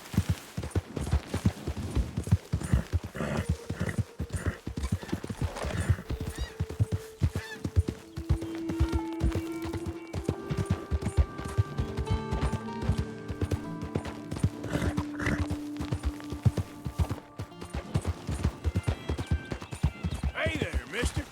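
Horse hooves thud in a running rhythm while riding in Red Dead Redemption 2, persistent throughout, with honking birds and talking voices layered over the hoofbeats.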